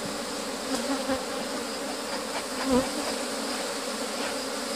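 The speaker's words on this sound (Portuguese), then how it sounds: "É uma abelha muito agitada, não para momento algum." Agitated, defensive honeybees swarm around an apiary hive during comb replacement, a dense continuous buzz of many insects with individual bees droning past up close.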